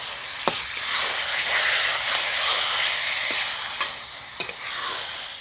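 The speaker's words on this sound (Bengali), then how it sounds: "খুব ভালোভাবে মশলাটা কষিয়ে নেব।" Spice paste with turmeric is sautéed in a pan for chicken biryani, a steady close sizzle with stirring scrapes and a few sharp spoon clicks against the pan.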